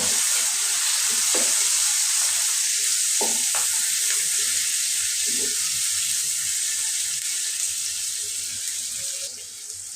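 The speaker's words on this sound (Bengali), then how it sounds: "এখন আমি আর একটু তেল দিয়ে দেব পেঁয়াজটা একটু ভেজে নেব" Onions frying in oil in a pan, a steady close sizzle throughout with a few soft stirring scrapes and clinks, fading slightly near the end.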